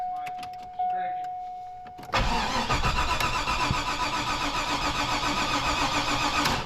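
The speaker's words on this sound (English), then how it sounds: "She won't even start." Corvette engine cranking but refusing to start, a loud close starter grind with fast rhythmic chugging that begins abruptly after a quiet stretch of faint voices and clicks, then continues steadily.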